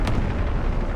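Artillery shell explosion in War Thunder, a broad low boom with a sharp burst at the onset, then a sustained rumbling roar filling the whole second, loud and close.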